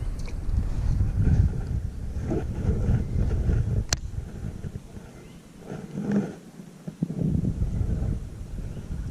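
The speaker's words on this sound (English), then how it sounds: "And this wind, dude, really irritating me, actually." Wind buffets a fishing boat out on open water, a steady low roar of gusts and microphone rumble that holds throughout, easing briefly in the middle before rising again, with a single sharp tick near the start.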